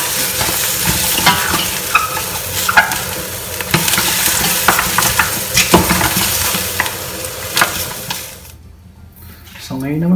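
Garlic frying and browning in a pan while being stirred for a pork nilaga: a steady close sizzle with repeated scraping and clinking of the utensil, fading to a quieter hiss near the end.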